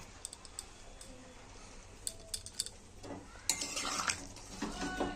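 A spoon clinks and taps against a pot of lentil-fritter curry with garam masala, then stirring turns into a louder, denser scraping and shuffling near the end; fairly quiet, no talking.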